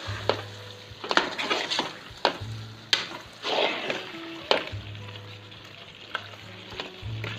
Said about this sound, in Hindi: अब इसमें हम थोड़ी सी क्रीम ऐड कर लेंगे और इसको अच्छे से मिक्स कर लेंगे